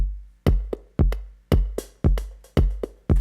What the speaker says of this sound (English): just super dubby drums, and we are kicking along at 114 BPM